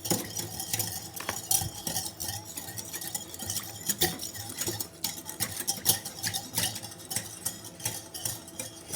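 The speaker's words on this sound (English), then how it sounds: "It says stir 2 minutes until completely dissolved." Jello mix being whisked in a bowl: quiet, uneven scraping and clinking of a utensil against the bowl, near and fairly faint, with no voices.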